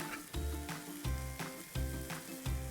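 Roasted gram flour being stirred into paneer bhurji in a hot pan, rhythmic stirring strokes about every 0.7 seconds over a soft sizzle, close and fairly quiet.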